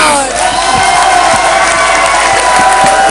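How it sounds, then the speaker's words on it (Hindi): An audience cheers and claps at a televised bridal contest event, a loud dense crowd roar with whoops and scattered claps sustained throughout. "तालियां।"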